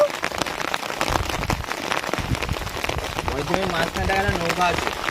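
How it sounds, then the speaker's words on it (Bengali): Heavy rain falls during a storm on a Sundarbans river, with a dense steady patter on surfaces and people talking over it. "যদিও খুব জোরে বর্ষা হচ্ছে"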